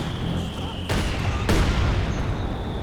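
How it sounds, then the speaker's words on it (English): Heavy mortar barrage in Company of Heroes 2, with two sharp, loud impacts about half a second apart over a steady bed of battlefield noise and a sustained high whine. "the heavy mortars ripping in out the back"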